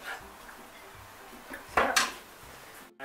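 A utensil stirs chopped carrots into a vegetarian shepherd's pie vegetable mix, giving a couple of close, brief clinks and scrapes against the pan in an otherwise quiet kitchen.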